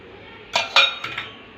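A spoon clinks against a cooking pan as sugar is stirred into a dudhi muthiya mixture with coriander and kasuri methi: a few quick, light metallic taps in an otherwise quiet kitchen.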